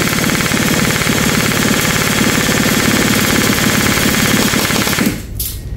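Sustained full-auto gunfire rattles loud and continuous in a rapid stream for about five seconds, then cuts off abruptly.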